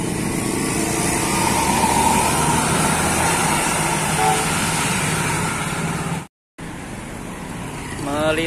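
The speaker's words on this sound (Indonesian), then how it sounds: "Kembali melintas bus James Go." A large tour bus in Ciamis, Indonesia, rumbles steadily past amid road traffic noise, the engine drone loud and close before a brief dropout and fading away.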